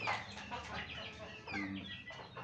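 Hens cluck and chatter continuously amid a busy, noisy farmyard din, with several birds calling over one another.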